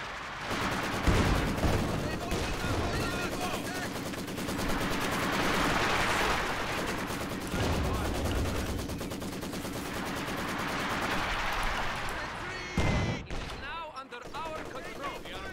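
Sustained gunfire in the real-time strategy game Company of Heroes 2, with machine-gun bursts and rifle shots rolling through the battle din, artillery-like thumps mixed in, and game unit voices speaking over it.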